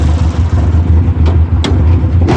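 A Merkur XR4Ti engine idles in a steady low rumble, nearby and fairly loud, with a few sharp clicks over the drone and no talking.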